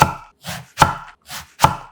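A knife cutting through eggplant into rounds about half a centimetre thick, five crisp close-up slices in a steady rhythm with no talking.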